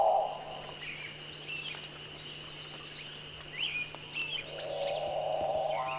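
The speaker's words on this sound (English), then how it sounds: "We are off to search for the capuchin bird." Capuchinbird calls in a tropical forest, a low drawn-out moaning note at the start and another swelling at the end, over steady insect drone and scattered chirps from other birds at moderate distance.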